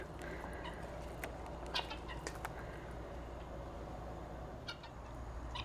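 Chickens cluck and murmur softly near a septic tank access point outdoors, scattered short calls over a steady low background, fairly quiet and without talking.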